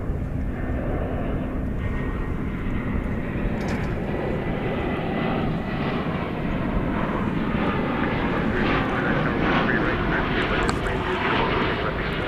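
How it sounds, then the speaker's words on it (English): An American Airlines Airbus A319 arriving at Dallas/Fort Worth Airport, its engine roar loud and steady for the whole stretch, a broad sustained whoosh that swells slightly toward the end. "We've got American 1966 arriving from Gunnison, Colorado. This will be an Airbus"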